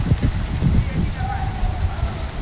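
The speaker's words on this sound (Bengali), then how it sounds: "মোটা অঙ্কের বৃষ্টি।" Heavy rain pours down during a nighttime storm with strong wind in Rangpur, a dense steady hiss and patter of drops with rumbling gusts underneath, close and loud throughout the short stretch.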